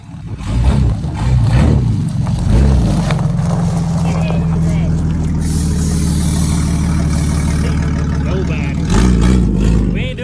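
A Jeep WJ engine idles and revs loudly and close up as it is put in gear and pulls away, a steady droning motor with surges in pitch, while someone talks over it.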